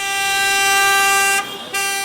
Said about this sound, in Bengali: বিমানবন্দর সড়কের নিকুঞ্জ এলাকা অবিরাম বাজছে হর্ন